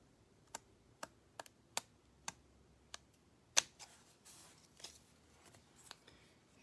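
Large scissors trim the edges of a handmade card in a series of about six sharp, separate snips, followed by a louder cut and softer rustling of card stock, close and quiet with no talking.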